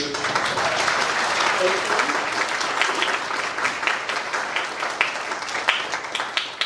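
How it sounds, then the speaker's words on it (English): An audience at a church sabbatical-sharing gathering gives a round of applause for a catering company, a dense, steady wash of many hands clapping that carries through the whole stretch, with a murmur of voices underneath. "Let's give a round of applause to Becca Schaefer Catering"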